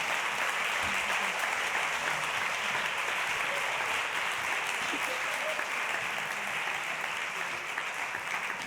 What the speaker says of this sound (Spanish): vamos a darle un gran aplauso a César.